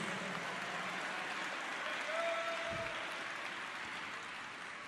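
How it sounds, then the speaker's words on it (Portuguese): Church congregation applauding in praise during an evangelical service, a steady wash of many hands clapping that carries on for the whole stretch, with a faint voice underneath. "Aplauda Jesus, aplauda o Senhor Jesus"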